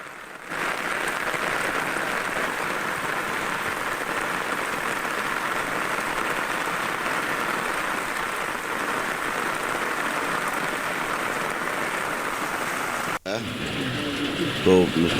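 Heavy rain falls steadily in an Indian town hit by flooding, a dense continuous hiss close by that breaks off near the end.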